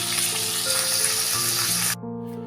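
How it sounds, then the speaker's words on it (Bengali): Potato pieces frying in hot oil in a home kitchen: a loud, steady hiss and crackle that runs close up, then cuts off abruptly near the end, leaving a quieter hum. "আলুগুলো একটু ভেজে নিচ্ছি।"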